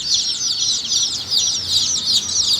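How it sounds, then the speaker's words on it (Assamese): Small chicks at a poultry farm chirp in a dense, continuous chorus of high peeping. The sound is moderately loud and comes with no talk. "ভিডিঅ'ত দেখিছে সৰু সৰু পোৱালি"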